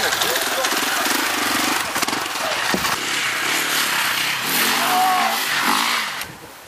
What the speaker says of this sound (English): let others try out his high-performance off-road machine